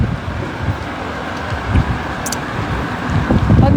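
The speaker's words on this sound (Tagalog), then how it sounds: "Tignan mo naman yung hangin." Gusty wind buffets the microphone with low rumbling bursts, loud and continuous, swelling toward the end.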